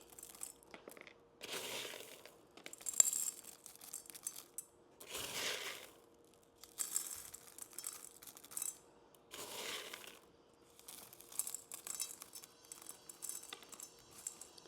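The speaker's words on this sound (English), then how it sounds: "you need to add some more gravel just to anchor them down" Gravel is poured around paperwhite daffodil bulbs in a glass container, giving bursts of faint, close clinking and crunching that repeat at irregular intervals.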